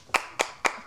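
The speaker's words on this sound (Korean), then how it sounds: "박수!" Four sharp, evenly spaced hand claps ring out crisply in a quiet room, each a single close snap in a steady rhythm.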